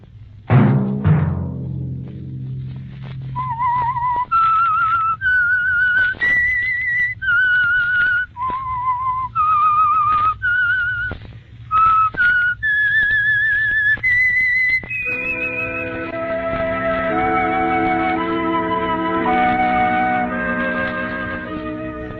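A lone whistler carries the signature melody of The Whistler radio mystery program in clear, distinct phrases, followed by a sustained orchestral chord that rings out beneath the final notes.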